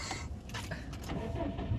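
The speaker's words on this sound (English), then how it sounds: "just push the clutch in and start it" A Subaru STI engine cranks briefly, a short faint starter whir and sputter with a person talking nearby.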